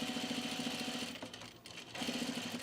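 A sewing machine stitches a V-neck coat in a steady, close, humming run, briefly slowing and pausing in the middle before resuming at full speed.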